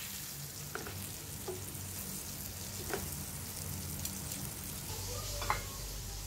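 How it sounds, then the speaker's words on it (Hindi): Chicken seekh kababs shallow frying in a little oil over a low flame, a continuous gentle sizzle with occasional light taps and pops, no voices. "मैं इसको शैलो फ्राई कर रही हूँ, डीप फ्राई नहीं।"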